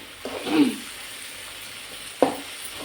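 Green chillies fry in a pan, with two short bursts of sizzle and stirring spread over a few quiet seconds, fairly close and with no talk.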